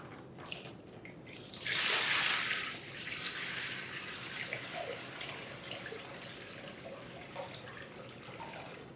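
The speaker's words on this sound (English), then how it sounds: "will you fill my bucket with water?" Water runs from a tap into a plastic or glass bucket, a steady close rush with a brief louder gush near the start and a dull constant flow after.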